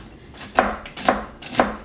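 A knife chops a handful of walnuts on a cutting board in three sharp, evenly spaced strikes, close and crisp, with a quiet pause between each.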